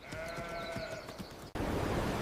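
Sheep bleating, a single drawn-out wavering cry over a quiet background, cut off abruptly by a sudden burst of broadband noise.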